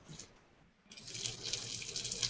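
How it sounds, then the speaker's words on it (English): Battered fish fillets fry in hot oil in a pan, giving a soft, steady sizzle that swells after a brief lull and keeps crackling at a moderate level. "That's the sound of fish frying."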